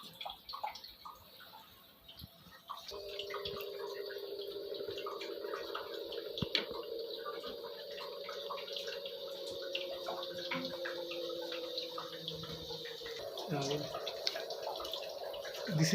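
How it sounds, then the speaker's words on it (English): Water running steadily through the post-carbon filter of a Livpure purifier during forward flushing, a continuous close hiss and trickle that starts after a brief quiet moment and shifts tone near the end. "This is the forward flushing of post carbon."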